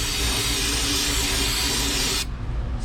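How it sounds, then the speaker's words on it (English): Brake cleaner sprayed onto an open car differential being prepared for welding: a loud, continuous close aerosol hiss that stops abruptly near the end, leaving quieter shop noise. "Brake clean targeted area."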